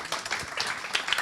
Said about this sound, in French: Merci, on vous applaudit.